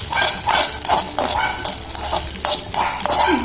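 Raisins and crushed cashews frying in a pan for wheat uppumavu, a steady close sizzle broken by repeated scraping stirs of a spoon against the pan, with no talk.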